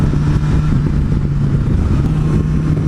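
A BMW S1000XR motorcycle engine roars loudly and close, a sustained dense revving drone that holds steady throughout, with no one speaking.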